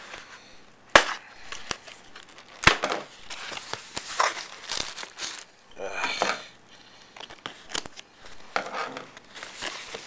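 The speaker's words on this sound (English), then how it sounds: "I'm just going to loosen up the tape a bit, like so." Packing tape being loosened and peeled on a cardboard package, heard close up as crackly crinkling and tearing with sharp plastic clicks and snaps scattered through the stretch.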